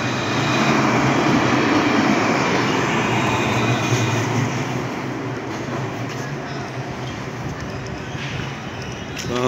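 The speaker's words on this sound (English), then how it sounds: "Quite noisy with the Lewis coming up and down." A Luas tram on a busy Dublin street, a steady loud rumble of passing rail traffic with road noise that fades slightly, continuous for the whole stretch.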